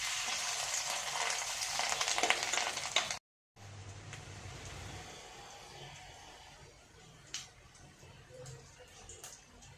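Fish roe fritters frying in hot oil, a steady bubbling sizzle that is stronger at first, briefly cuts out, then continues softer with occasional scraping and clinks.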